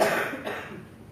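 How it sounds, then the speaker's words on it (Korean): A single cough from someone in a church congregation during a Sunday worship service, fairly close and clear, trailing off into the quiet room. "기침 소리가 더 잘 들립니까?"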